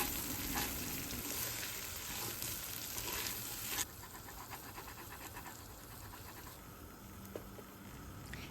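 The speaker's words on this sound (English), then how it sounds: "Scrape the brown bits on the bottom while the butter is melting." Butter melting in a pot for a clam chowder base gives a soft, steady sizzle with scraping and stirring over the brown bits on the bottom, a brief louder stretch before settling quieter.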